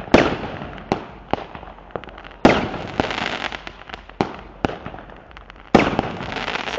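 Fireworks burst in a 2012 display, with a series of sharp, loud explosive cracks spaced irregularly, each followed by a hissing, crackling tail, as if sparkler-type shells are going off nearby.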